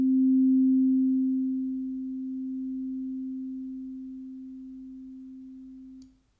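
Dexed DX7-style FM synth patch with operators 1 and 3 detuned: a single sustained pure tone holding one pitch, with a slow, gentle chorus-like waver as it fades before cutting off.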